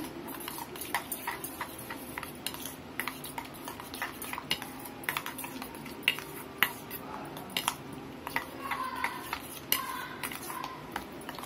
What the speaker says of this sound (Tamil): இந்த மாதிரி ஊற்றிட்டு நல்லா இந்த மாதிரி கிளறி விட்டுக்கோங்க